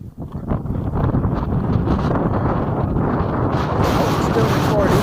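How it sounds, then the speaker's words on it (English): Strong gusts buffet a microphone outdoors in a park in Artesia, New Mexico, a loud continuous low roar and rumble that swells after a quieter first moment. "You wouldn't hear me with all this wind."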